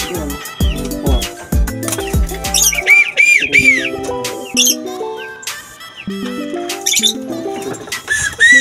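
Pigeons coo repeatedly, close and fairly loud, with stacked low coos and some higher squawking calls mixed in.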